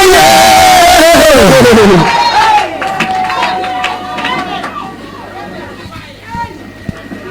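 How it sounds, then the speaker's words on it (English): A church congregation shouts and claps during a loud preaching service; an amplified voice dominates the first two seconds, then crowd noise, scattered claps and calls continue more faintly beneath a held musical tone. "Clap your hands and shout and say yeah"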